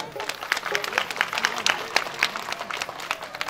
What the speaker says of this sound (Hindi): जोरिया गोटे करताली आस